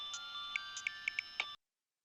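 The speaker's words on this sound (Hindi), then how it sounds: "मिनाल का फोन" A mobile phone ringtone plays alone, a steady electronic tone with a series of short bright beeps repeating at a quick rhythm, clear and near, then cutting off abruptly.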